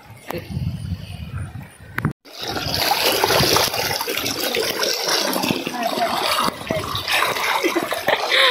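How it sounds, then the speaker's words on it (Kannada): Rushing water of a stream feeding the Netravati River flows loudly and continuously, a close, churning wash that fills the scene after a brief pause at the start. "ಇಲ್ಲಿಂದ ಸಹ ನೀರು ಹೋಗ್ತದೆ ನೇತ್ರಾವತಿ ನದಿಗೆ"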